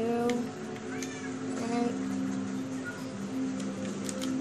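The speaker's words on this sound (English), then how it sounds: "No, they're flying cats." Cats meow in Minecraft, several short mews in a row, clear and fairly close, with a player speaking briefly between them.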